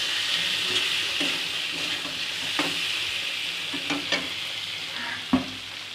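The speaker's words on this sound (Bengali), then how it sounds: "আলুটাকে ভালোভাবে মশলার সঙ্গে মিক্স করে মাছের পিসগুলি এখানে দিয়ে দেবো" Potato and fish pieces coated in spices sizzle and fry in a pan, with scraping stir strokes and a few sharper clinks over a steady, close frying hiss; no talking.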